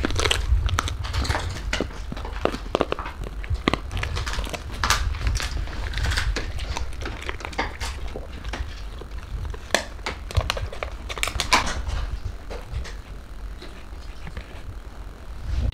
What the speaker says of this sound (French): c'est un peu croquant donc je sais qu'il mange